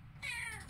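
A pet cat lets out a single short, bright meow close by in a quiet indoor room, with no one talking.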